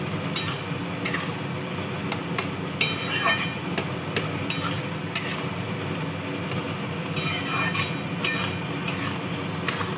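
Spices being stirred into egg tarka in a pan, with a steady scraping and clinking of a utensil against the metal over a continuous cooking hiss, close and moderately loud, with no talking.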